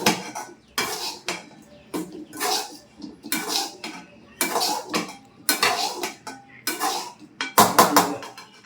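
A fried egg with a light dusting of pepper powder is stirred and scraped in a kitchen pan, with repeated metallic clinks and scrapes of utensil on metal coming in bursts about once a second, close and fairly loud, without any talking.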